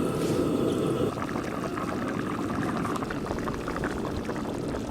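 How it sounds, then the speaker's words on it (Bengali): Chicken curry broth with potatoes bubbling at a vigorous boil in a pot, a steady close rolling burble of liquid that holds constant throughout, with no voices. "ঝোল কিন্তু একদম টকবকে হয়ে ফুটে গেছে।"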